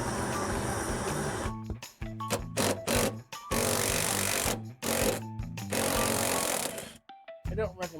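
Loud intermittent mechanical rattling and buzzing bursts, like an impact or power tool working bolts free on the exhaust flex pipe of a Ford Flex, with short pauses between runs and a brief silent gap near the end.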